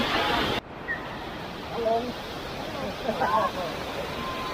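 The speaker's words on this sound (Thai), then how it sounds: "ด้านหน้าของผมก็คือน้ำตกคลองลานจังหวัดกำแพงเพชรนะครับ" Steady roar of rushing water fills the scene, broad and constant from Khlong Lan Waterfall in Kamphaeng Phet, Thailand, with a few faint voices murmuring underneath.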